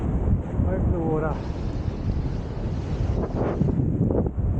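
Waves washing in along a rocky ocean shore on a coastal hiking trail, a steady broadband roar buffeted by heavy wind noise on the microphone, with a brief voice heard near the start.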